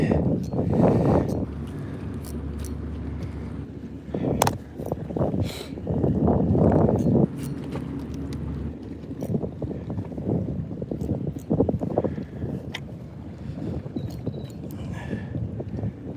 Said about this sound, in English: the wind is blowing me a little bit of everywhere